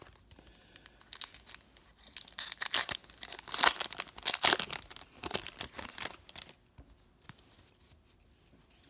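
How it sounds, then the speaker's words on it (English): Giant filler trading cards from a 2016-17 Fleer Showcase hockey hobby box tumble onto the ground, making a burst of papery rustling, slapping and crinkling over several seconds before tapering off, fairly close and without speech. "Giant filler cards hit the ground."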